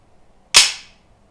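A Canik TTI Combat pistol's slide snaps forward into place with one sharp, close metallic clack that rings out briefly in a quiet room.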